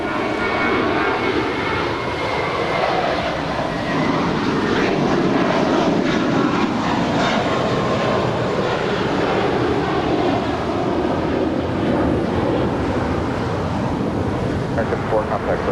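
A United heavy jet takes off from runway 25 right at Los Angeles International Airport, its engines giving a loud, continuous roar that holds steady throughout, with radio talk faintly underneath.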